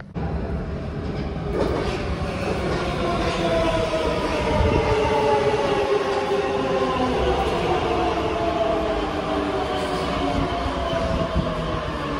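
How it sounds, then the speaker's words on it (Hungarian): A Budapest metro train pulls into a station, arriving from the Újpest direction: a loud, sustained rumble with rising and falling wheel and motor tones over roughly twelve seconds, heard close on the platform with no talk. "És jön a metró Újpest felől, vegyük föl."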